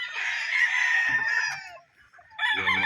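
A fighting rooster being prepared for the Bicol expo crows loudly and close by, a long strained call. After a brief pause a second crow begins. No one speaks.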